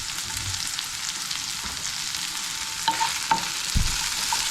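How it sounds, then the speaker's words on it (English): Egg and potato fry in a pan with a continuous sizzling hiss, broken by a few sharp clacks and scrapes from stirring near the end, and nobody speaking. "Stir those up. Let these cook for a while."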